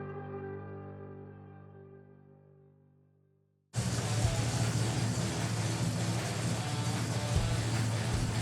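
A Plymouth Cuda on the road gives a steady, loud broadband rumble of engine and road noise that cuts in abruptly after a fading tonal passage and holds to the end.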